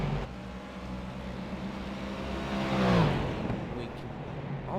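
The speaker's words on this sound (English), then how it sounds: "you can almost hear the GT3 cars as they're starting to gain upon him" GT3 race cars at Mid-Ohio circuit during Round 9 of the American Sports Car Series, a sustained engine drone that swells as a car passes around the middle and then fades, under faint commentary.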